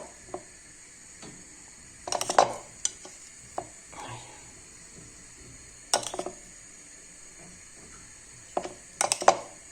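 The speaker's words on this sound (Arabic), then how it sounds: "باغي نقلع شويه بطاطا هذا باش نخلط" Potatoes frying in a pan as a cook prepares maakouda, with quiet intermittent sizzling broken by a few sharp scraping and stirring bursts at irregular intervals.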